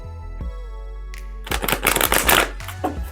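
Moonology oracle cards are shuffled close up, a rapid riffling flutter of card edges that follows a quiet stretch.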